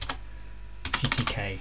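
Keys clatter in a quick burst on a computer keyboard as a terminal command is entered, close and crisp, with a voice speaking briefly over the typing.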